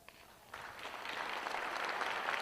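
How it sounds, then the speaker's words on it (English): Applause from an audience starts after a quiet half-second, then builds into steady, sustained clapping that stays loud through the end. "give yourselves a round of applause for that"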